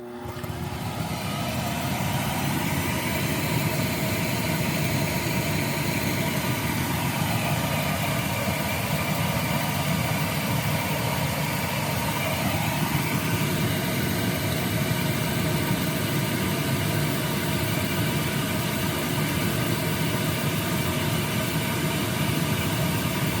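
A Prolux CTX canister vacuum cleaner runs at maximum power, a loud, unbroken motor roar and airflow rush that stays steady throughout with a slight shift in pitch midway.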